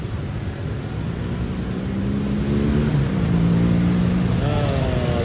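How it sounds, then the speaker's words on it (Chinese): A continuous stream of motorcycles rolls through a busy night street in Vietnam, a dense engine drone that swells as nearer bikes pass with rising and falling whines. "看到没有，源源不断的摩托车"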